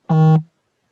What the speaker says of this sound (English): Is that a cell phone or is that an error on the computer?